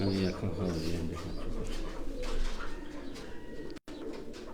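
A racing pigeon coos softly in low, repeated throaty notes near the start, followed by steady background noise and a voice talking.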